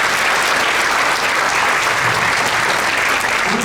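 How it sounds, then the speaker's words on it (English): Audience members at a sixth-grade winter concert applaud the flute section, a loud, even wash of many clapping hands sustained throughout without a break. "Big round of applause for the flute section."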